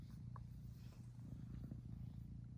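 A kitten purrs steadily and softly up close, a continuous low rumbling throughout with no talking.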